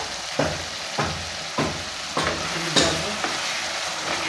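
Beef and chana dal braise in a covered pan, a steady sizzle punctuated by regular scraping stirs roughly every half second, close and moderately loud with no voices.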